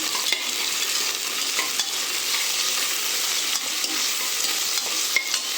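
Rock salt and vegetables being sautéed and stirred in a hot pan for green pea pulao, with a steady close sizzle and frying hiss running throughout and soft scraping strokes mixed in.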